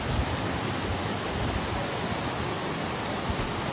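Rushing waterfall water fills the scene as a steady, dense broadband roar, constant and fairly loud with no pauses.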